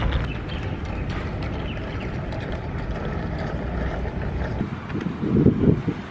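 Small electric motors on a remote-control fishing bait boat whir, speeding up and slowing down, heard close against wind noise with a louder surge near the end.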